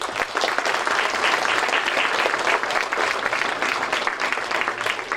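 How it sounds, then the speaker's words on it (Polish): Loud, continuous applause fills a hall at a youth sports academy event, many hands clapping densely and evenly without a break for several seconds. "wielkie brawa dla nich"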